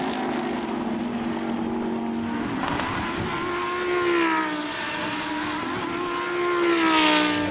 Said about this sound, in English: To be able to hear this motor sing the whole time.